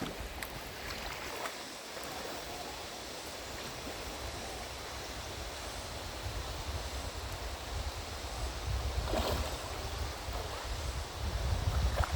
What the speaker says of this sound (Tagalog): Ito yung ilog oh.